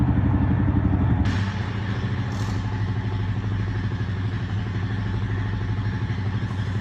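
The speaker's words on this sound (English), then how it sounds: "the ATV is pre-programmed to drive forward at full speed for a predetermined distance" Honda 4Trax Rancher ATV under remote control, engine running hard at full throttle with a steady buzzing drone and rattling clatter throughout, loud and close, with no talking.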